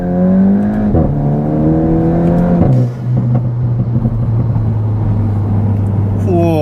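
A Volkswagen Golf GTI with a Stage 1 tune accelerating hard at full throttle, its engine note climbing steadily before a brief dip at a gear change and then rising again, loud and close from inside the car.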